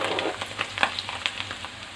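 Curry leaves and onions fry in a hot pan for a bitter gourd curry, giving a steady crackling sizzle with scattered sharp pops and spatters close by.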